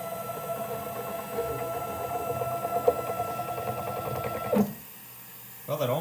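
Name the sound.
homemade CNC mill running a cut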